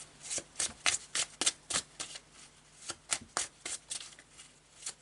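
Tarot cards being shuffled by hand: a run of quick, crisp riffling bursts in an irregular rhythm, close and fairly loud, with no voices.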